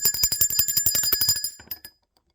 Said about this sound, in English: Let's ring the bell for Astarte and the butterflies.